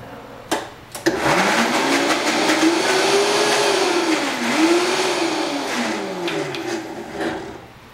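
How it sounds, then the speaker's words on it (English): A blender whirs loudly and continuously, its motor pitch rising and dipping as it purees fruit, after a couple of sharp knocks at the start. "So I'm just going to puree a bit."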